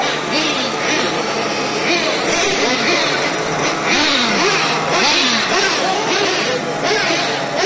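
Nitro-powered RC cars idle and rev at a night racing session on an outdoor track, a constant buzzing engine whine with rising and falling pitch sweeps, loud and close, with people talking in the background.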